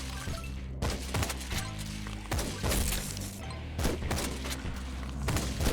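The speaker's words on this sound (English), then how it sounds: "Now we're starting to get a lot more kills with this double shotgun." Double shotgun blasts in the zombie survival game Yet Another Zombie Survivors, a dense continuous barrage of crashing, booming gunfire with repeated heavy impacts layered over game music, loud throughout.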